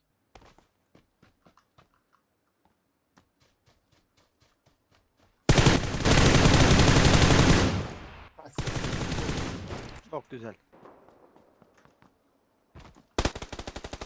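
Rapid automatic gunfire in a shooter video game, two loud sustained bursts and a later short volley amid scattered light footstep clicks, with someone speaking briefly.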